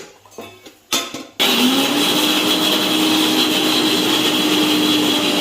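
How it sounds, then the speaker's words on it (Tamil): Coconut is ground in a mixer grinder: a few clunks and a brief spin-up give way to a loud, steady high-pitched motor whine that runs continuously to the end. "தேங்காய் அரைச்சிட்டோம்."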